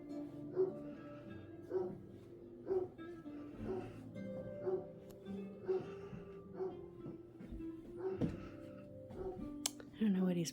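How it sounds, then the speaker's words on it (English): A pet dog indoors in a decorated double-wide manufactured home gives a run of short barks and yips at a steady pace, fairly close, while a person talks over it. "I don't know what he's barking at."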